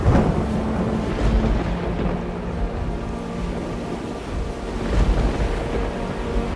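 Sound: realistic storm sound effect with thunder and waves

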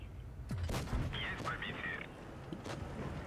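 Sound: IS-5 tank cannon shot in video game World of Tanks Blitz

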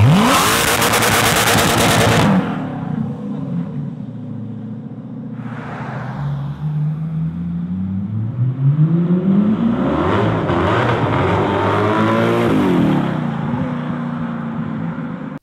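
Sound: Koenigsegg CCX supercar engine revving

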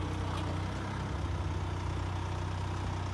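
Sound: Mercedes C220 car engine running

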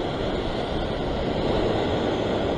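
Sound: ocean waves breaking on sea cliff rocks

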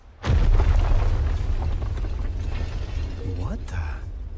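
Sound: explosion in the video game Ni no Kuni II

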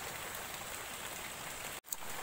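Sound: heavy rain with wind

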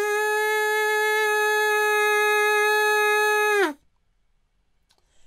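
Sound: straw flute note

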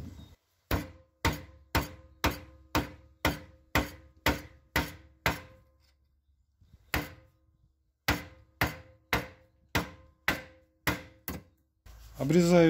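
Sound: hammering to flatten a metal pipe

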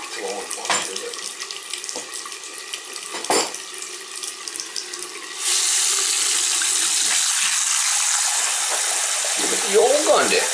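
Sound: water flowing from a bathroom sink tap

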